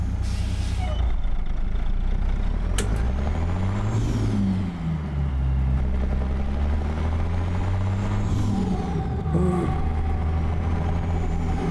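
A heavy truck engine in American Truck Simulator rumbles steadily as it is put into gear, with low revs rising and falling and a brief hiss partway through; someone talks over it.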